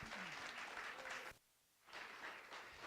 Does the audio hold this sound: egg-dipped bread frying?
no